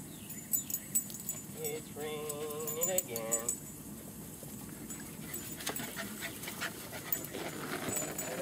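Rapid, breathy panting from seven-week-old German Shepherd puppies close by, mixed with faint rattling and a few soft voices in the background.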